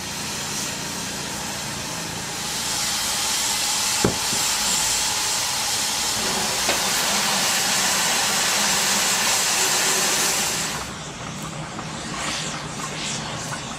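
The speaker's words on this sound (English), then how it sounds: "they did an excellent job of capturing their articulated Baldwin tank engine number" Articulated Baldwin steam tank engine number 110 on the Black Hills Central Railroad, a sustained loud hiss of escaping steam with a dull rumble beneath, two sharp knocks, then the hiss drops off near the end, revealing quieter background.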